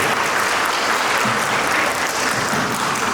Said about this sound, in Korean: 서로를 향한 약속을 응원하는 마음으로 다시 한번 큰 박수 부탁드립니다